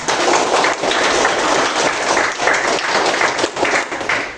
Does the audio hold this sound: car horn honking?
no